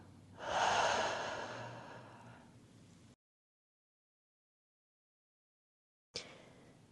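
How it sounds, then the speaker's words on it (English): A single deep breath drawn in slowly and let out, close and fairly loud, trailing off before a stretch of silence and a brief soft sound at the end. "take a deep breath in"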